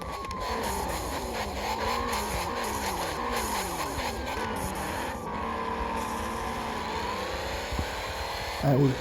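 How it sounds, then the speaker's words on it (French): A police car engine in the Car Parking Multiplayer video game revs and whines steadily, its pitch rising and falling with repeated throttle sweeps, loud and continuous, with a brief thump near the end. "Voilà ce qu'elle a sous le capot. Ma petite voiture de police."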